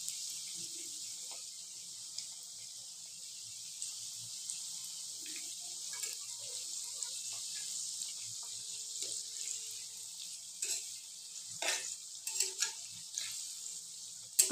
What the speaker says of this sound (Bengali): এইভাবে সবগুলো রোল আমি ভালোভাবে ভেজে নেব।